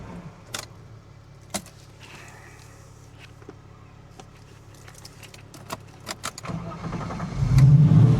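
A TVR S3 sports car, stopped at the roadside partway through a long drive, starts up near the end. A quiet idle hum and a few light clicks and rattles come first, then the engine catches and a loud, rising roar follows.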